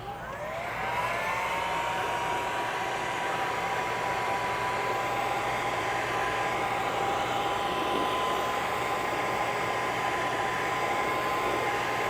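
Heat gun blowing hot air onto a vinyl stripe on a Ford Bronco Raptor during a Boss C stripe kit install, a steady close whooshing drone with a high whine, running unbroken and without talk.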